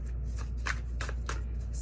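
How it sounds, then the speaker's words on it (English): Tarot cards side-shuffled by hand, a few soft papery riffles and flicks over a steady low background hum, close and quiet with no talking. "Let me do a little side shuffle."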